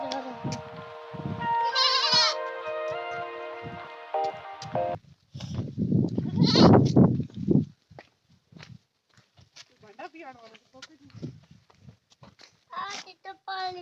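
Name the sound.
goats bleating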